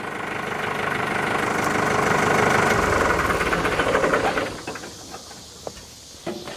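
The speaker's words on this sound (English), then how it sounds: "I wanted to try this with the engine running." A heavy tractor engine chugs and idles loudly with a rough knocking rhythm, then cuts off, leaving faint clicks and rattles as it dies away.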